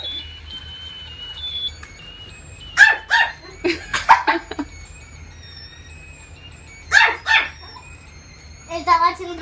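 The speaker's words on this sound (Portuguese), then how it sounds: "Ele tá latindo pra ver." A small dog barks and yips in short bursts, sharp and close, with a brief whimpering cry near the end, separated by quiet pauses over a low background hum; a person speaks briefly.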